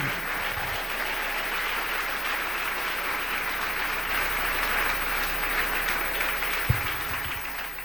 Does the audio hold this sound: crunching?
no